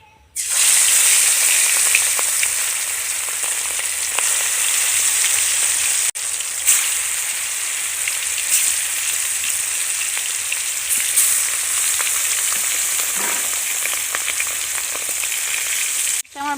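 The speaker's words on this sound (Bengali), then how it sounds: "তেল গরম হয়ে গিয়েছে, এবার আমি মাছগুলো তুলে দিচ্ছি।" Katla fish pieces frying in hot oil give a loud, close, continuous crackling sizzle that starts abruptly and holds steady with small pops, ending sharply, with no talk.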